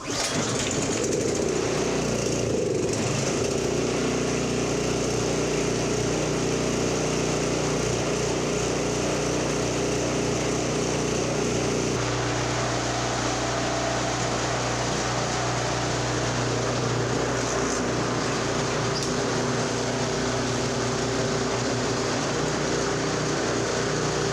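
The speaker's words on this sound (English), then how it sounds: "It is running a little bit lean when it was cold." Engine of a Toro 721 snow thrower running lean after a cold start, a steady loud droning hum close by for the whole stretch, with a slight shift in pitch partway through and no talking.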